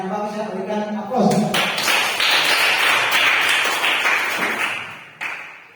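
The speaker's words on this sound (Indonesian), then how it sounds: "berikan aplaus" Classroom applause during a lesson: dense clapping bursts in after about a second and carries on steadily for several seconds, then tapers off near the end, with a voice briefly audible before it starts.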